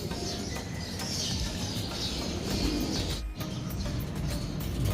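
Pigeons at a loft coo softly in a continuous murmur, moderately close, over a steady background hum with no one talking.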